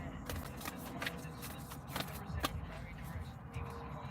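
Tarot cards are shuffled and drawn with soft riffling and papery flicks, a few sharper snaps standing out, under a person talking.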